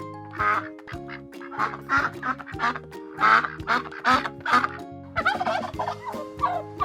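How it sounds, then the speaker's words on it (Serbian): A farm duck quacks in a rapid run of short, nasal calls, several bursts in a row, over a steady musical backing. "Patka kvače."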